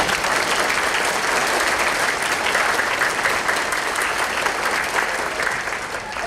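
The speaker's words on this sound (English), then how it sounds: "So let's give them a round of applause." Steady, dense applause from an audience at a school music concert fills the room for several seconds at an even level, then eases slightly at the end.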